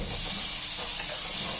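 Tomatoes and spice powders sizzling in a hot pan, a steady loud hiss of frying that holds unbroken throughout.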